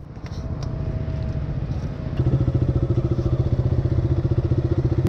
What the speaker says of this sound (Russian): я наконец-то сел на мотоцикл